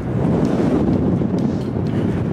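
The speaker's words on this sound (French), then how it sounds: "il commence à avoir beaucoup de vent" Strong gusty wind buffets the microphone on a golf course in Northern Ireland, a loud, continuous low roar without pause and with no voices.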